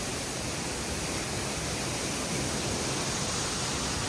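Waterfall at Curug Putri Palutungan at the foot of Mount Ciremai in Kuningan, a dense, steady roar of falling water close by, loud and unbroken for a few seconds.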